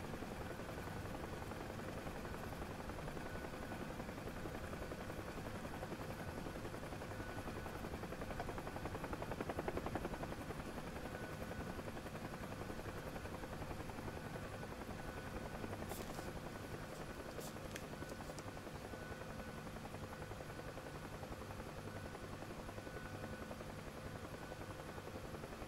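A helicopter's rotor in the flight-simulation game DCS World makes a steady, droning whir that stays faint and unbroken throughout, with no talk over it.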